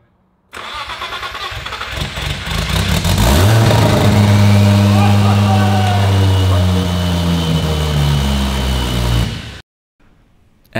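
A Nissan R34 Skyline that has stood unused for years cranks, catches and fires up, then revs up and settles into a loud, rough idle for several seconds before the sound cuts off sharply.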